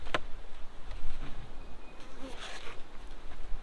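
Honeybees buzz in a soft, faint, continuous hum at an open hive during an inspection on a farm, with a few brief clicks and rustles from the handling of the hive.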